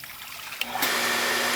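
A house water booster pump kicks on with a sharp click, then a steady loud rush of water flowing out of an opened tap continues without pause.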